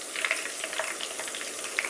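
Steady crackling sizzle of food deep-frying in hot oil, close and continuous, with a few brighter pops.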